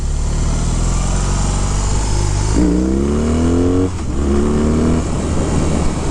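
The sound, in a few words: BMW R18 1800cc cruiser motorcycle engine revving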